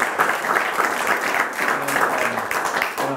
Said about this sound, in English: I want to do another round of applause for Ruth for taking time.